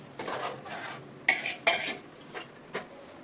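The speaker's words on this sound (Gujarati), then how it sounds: "પછી હલાવી નાખવાનું છે." A spoon clanks and scrapes against a pot while stirring village-style tempered khichdi: a few soft rubs followed by several sharper metallic knocks, close and unaccompanied by any voice.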